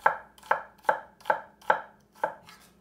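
A knife cuts thin slices on a cutting board, producing six crisp evenly spaced chops about half a second apart, close and clear with nothing else heard.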